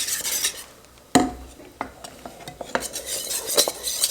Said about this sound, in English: It's getting harder to whisk.